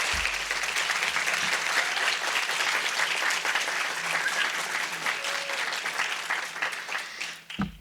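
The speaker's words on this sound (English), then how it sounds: "we'd like to give you a round of applause" A room full of people applauds steadily for members of an art history society at a lecture event, dense clapping close and loud throughout before tapering off at the end.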